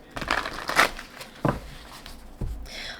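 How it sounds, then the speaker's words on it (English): A few soft papery swishes and flicks of cards being shuffled by hand, close up, in a quiet room. "Let me shuffle the energy oracle cards."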